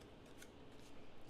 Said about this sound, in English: So I'm just going to take sharp scissors to trim those off.